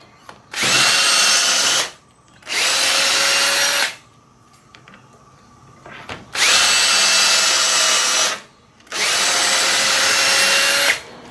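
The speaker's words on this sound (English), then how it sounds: "once I get these drilled, I can mount them onto the header" A power drill bores holes in metal garage door brackets for a louvered sliding wall. Four loud whirring bursts, each about a second and a half, are separated by short quiet pauses, with no talking.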